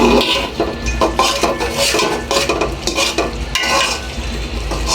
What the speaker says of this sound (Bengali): নেড়ে চেড়ে একসাথে মিশ্রণ করতে হবে